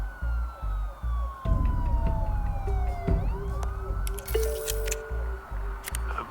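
Police car sirens in a Batman video game wail and sweep over a rumbling game soundscape with squelchy effects, several sirens overlapping at moderate distance.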